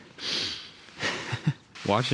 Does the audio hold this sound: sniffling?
yes